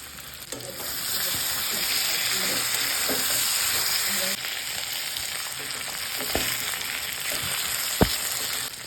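Pre-fried hilsa fish heads go into a pan of cooked-down spice paste, producing a constant close sizzle and frying hiss with a few scraping stirs and clinks of a utensil.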